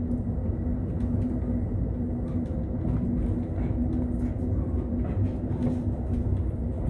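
Loud, steady low rumble and roar of Amtrak train 5 entering the Moffat Tunnel, heard from inside the car, continuous with faint clatter over the drone.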